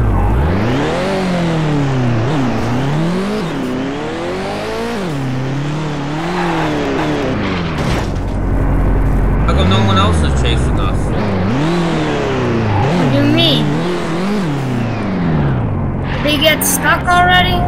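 Cars racing in a street race with a police chase in Garry's Mod: engine tones rise and fall in repeated revving sweeps, loud and close, with a player talking over them and brief scraping bursts.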